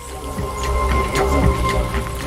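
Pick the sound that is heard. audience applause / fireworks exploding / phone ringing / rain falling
rain falling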